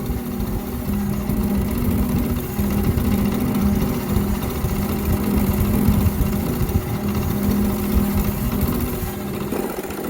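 Bowl gouge cutting wood on a lathe while turning a footed bowl, a steady droning hum with an even rough shaving hiss that stays constant and close throughout, with no talk.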